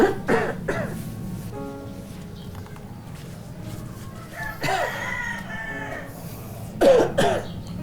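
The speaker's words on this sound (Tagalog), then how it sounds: "kailangan mo nang ipa-check up yung ubo mo" Several rough, harsh coughs from an adult, close and loud in bursts at the start, in the middle and near the end, with quieter background between them.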